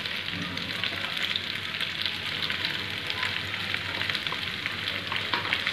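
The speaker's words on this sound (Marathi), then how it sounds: "तर आपण याच्यामध्ये टॅमॅटो सॉस ॲड करूया." Cooked pasta frying in a pan with masala and tomato sauce over medium heat, a steady crackling sizzle with light stirring, close and continuous with no voices.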